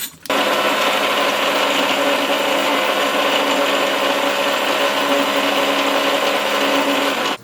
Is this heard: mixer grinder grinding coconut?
yes